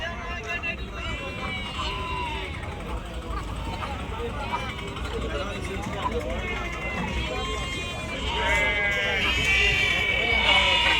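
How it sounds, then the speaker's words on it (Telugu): Sheep and goats bleat repeatedly amid a busy crowd murmur at the weekly Saturday livestock market in Chilakallu, the calls growing louder and more frequent toward the end. "అటు సైడ్ వచ్చేసి మేకలు ఉంటాయి ఎక్కువ ఇటు వచ్చేసి గొర్రెలు ఉంటాయి"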